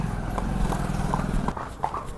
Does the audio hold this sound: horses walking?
yes